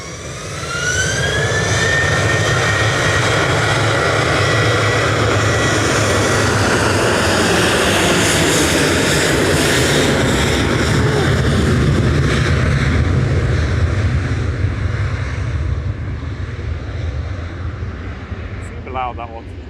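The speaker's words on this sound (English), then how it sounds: "Going next for Jet 2, operated by ETF Airways to Previtsa in Greece." A Jet2 passenger jet, operated by ETF Airways, takes off at Manchester Airport with a loud, sustained roaring rumble and a rising whine early on, holding steady before slowly easing as it climbs away.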